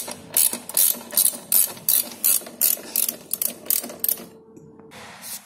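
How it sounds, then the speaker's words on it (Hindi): Ring spanner loosening the motor bolt on a Merico e-scooter, about ten rapid rhythmic ratcheting clicks in quick succession, close and loud, then falling quiet. "फिर 21 नंबर रिंग पाने से मोटर बोल्ट को खोलें या फिर ढीला करें।"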